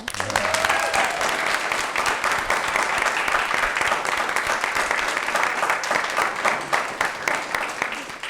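Sustained applause from a small group at a board of education meeting, steady clapping filling the room for several seconds with no break.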